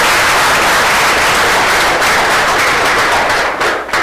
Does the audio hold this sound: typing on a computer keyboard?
no